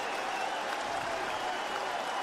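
A baseball crowd of more than 17,000 rises and applauds, a broad steady wash of clapping and cheering heard from a distance with no break.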